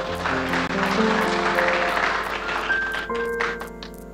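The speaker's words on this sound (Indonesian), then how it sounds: "Tepuk tangan bagi Tuhan kita." A church congregation claps during a Sunday service while keyboard music plays sustained notes underneath, the applause building briefly and then fading as the music carries on.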